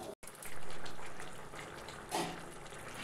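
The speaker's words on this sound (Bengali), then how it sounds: "ঝোলটা আমার ভালোভাবেই ফুটে গেছে" Egg curry gravy simmering in a pan on the stove, giving a steady close hiss of bubbling with a brief louder burst partway through, with no voices.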